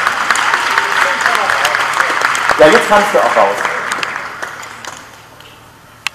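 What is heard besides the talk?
audience applause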